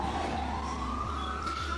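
A wailing emergency siren rises slowly in pitch over a steady low traffic rumble, continuous and moderately distant, with no voices.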